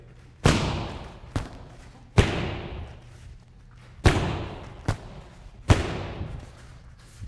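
Martial arts kicks and punches landing on a pad in a rear round kick drill, six loud close thuds in an uneven rhythm, heavy blows alternating with sharper, quicker smacks.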